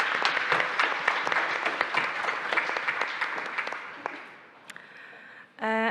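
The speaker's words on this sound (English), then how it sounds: "Big applause for you." Audience applause for a speaker at an equal-opportunities conference: dense clapping from a sizeable crowd, steady for about four seconds before thinning to a few scattered claps, then a brief burst of other sound at the end.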